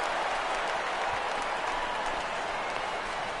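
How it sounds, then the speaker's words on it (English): Baseball stadium crowd roaring and clapping after a fly ball is hit to left field, a dense, sustained wash of cheering and applause from a large audience. "this crowd oohs and ahs every time this guy hits a fly ball"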